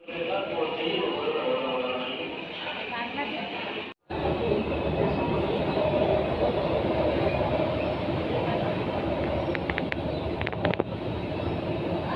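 Steady rumble of a moving passenger train leaving Thane fills the whole stretch, with a brief dropout near four seconds and faint clatter and squeaks later.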